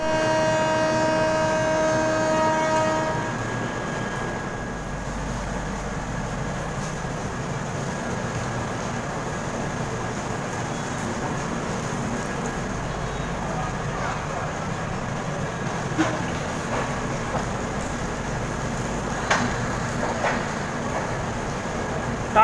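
Inside a train hauled by a Howrah-shed WAP7 electric locomotive leaving Puri, a steady low rumble and drone of the moving train continues throughout, with a brief tone at the start and occasional faint clicks.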